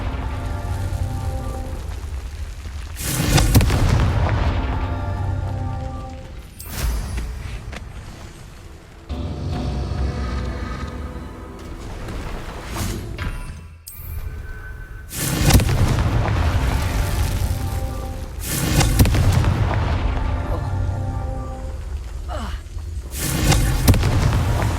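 Confringo spell explosions from Hogwarts Legacy sound as a series of heavy booms spaced several seconds apart. Each blast carries a crackling, rumbling tail through continuous game ambience.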